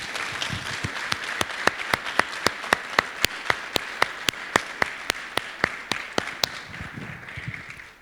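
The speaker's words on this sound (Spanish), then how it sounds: "Vamos a aplaudirles." Congregation at a church family service applauding a couple's 50th wedding anniversary, a steady rhythmic unison clapping of about two claps per second, sustained for several seconds before tapering off.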